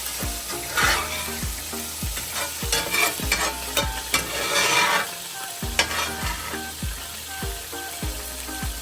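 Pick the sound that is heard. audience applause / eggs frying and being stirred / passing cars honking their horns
eggs frying and being stirred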